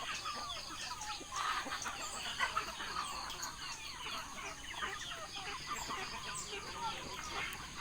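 Chickens, including young roosters, cluck and chatter continuously, with faint bird calls and outdoor farmyard ambience after rain; no talking is heard.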